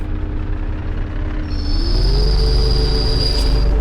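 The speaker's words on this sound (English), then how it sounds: "there is always a train accelerating away somewhere" A train in the Soviet-era city-building game Workers & Resources pulls away with a steady heavy rumble. Its tone rises in pitch as it accelerates, and a thin high squeal joins partway through.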